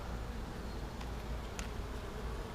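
Honeybees at an open hive make a soft, even buzz under a faint hiss. The sound stays low and steady with no voices.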